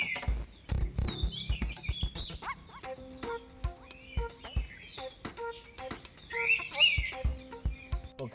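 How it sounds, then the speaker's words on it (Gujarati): A pitta bird sings in a forest on a nature trek, giving clear whistled calls and short chirps in bursts among other birds twittering nearby, with faint rustling underneath. "સામે ડાળ પર જે પક્ષી બેઠું છે એ છે પિત્તા"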